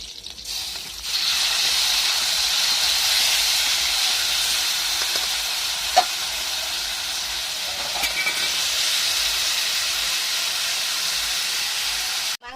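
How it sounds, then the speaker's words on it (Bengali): Marinated chicken hits hot oil tempered with green chili and whole cumin, bursting into a loud, steady hiss and sizzle that holds for about twelve seconds, with a couple of brief clinks partway through. "এবার ম্যারিনেট করা মাংসটা দিয়ে দিচ্ছি।"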